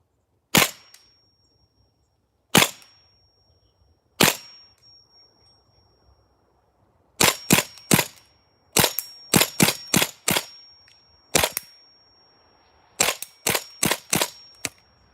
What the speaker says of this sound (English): Let's take some shots.